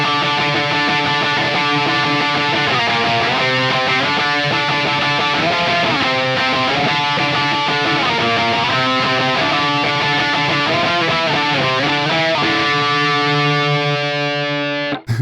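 Electric guitar played through an ML Sound Lab ML800 amp sim modelled on a JCM 800, giving a distorted metal tone; a continuous, loud run of chugging riffs and sustained chords lasts throughout, ending abruptly with no talk.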